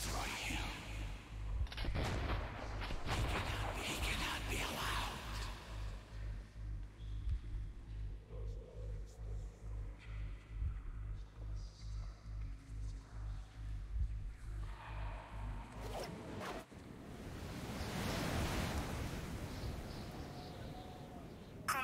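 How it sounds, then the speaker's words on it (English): Missiles launching and streaking away in the final stage of Metro 2033 Redux, heard as a long, loud, pulsing roar of rapid mechanical thumping, then a sharp cutoff and a rising whooshing rush at the end, with faint voices underneath. "Artyom, the missiles are in flight!"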